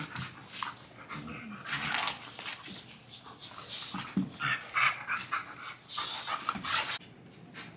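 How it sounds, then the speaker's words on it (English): Dogs scuffle close by, panting rapidly with bursts of growling and whimpering in an uneven, restless tussle. "there is a dog fight, bug tussle breaking out right here."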